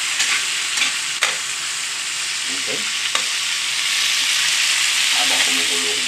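Canned lechon sisig frying in a pan gives a loud, steady sizzle with occasional stirring scrapes and pops, while a person speaks briefly over it.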